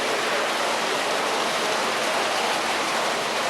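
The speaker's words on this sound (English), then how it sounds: "The stream actually runs through the hatchery." Steady broadband rush of a creek running through a walleye fish hatchery on Scriber Creek near Oneida Lake, continuous and close with no talking.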